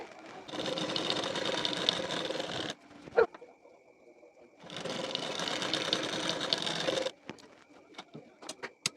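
A sewing machine stitches the shoulder seam of a size 34 collar-neck blouse, running in two long, steady bursts with a brief pause between, close and fairly loud, followed by scattered clicks and handling sounds.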